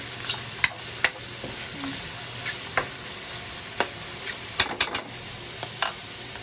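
Sliced mushrooms frying in a pan for a carbonara made with tuna: a steady soft sizzle with sharp pops and spatters scattered through, close and alone, with no talking.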